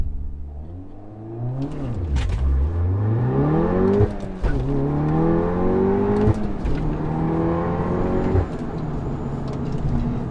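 APR Stage 2 tuned VW Golf R revving hard and pulling through several rising gear sweeps, with sharp breaks at the shifts. The engine note is loud and close, heard from inside the car with no talk.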